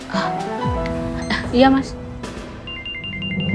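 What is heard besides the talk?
mobile phone ringtone ringing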